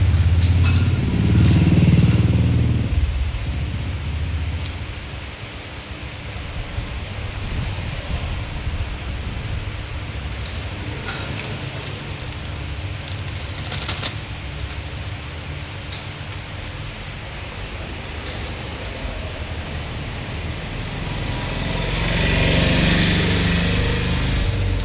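A mini continuous band sealer runs while sealing a plastic cover, giving off a steady, loud motor hum and whir that holds for the whole span, with slight swells near the start and end.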